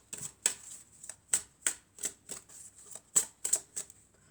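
Tarot cards drawn and flipped from a deck give a series of about ten crisp, close card snaps and slides, evenly spaced with short pauses between them.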